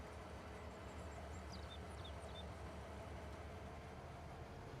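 Steady low rumble of a freight train hauling seed cars in Farming Simulator 22, a continuous rolling drone with faint high chirps above it, no talking.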